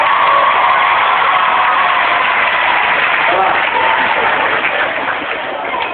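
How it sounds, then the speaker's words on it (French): An audience of young people applauds its youth leaders, a dense steady wash of clapping with some cheering that fades slightly, and a brief spoken word over it. "Applaudissez vos animateurs."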